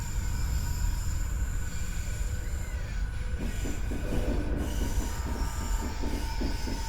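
An E233-3000 Utsunomiya Line electric multiple unit train rolls in with loud, continuous high-pitched wheel squeal over low rumbling, and rhythmic rail clicks join in the second half.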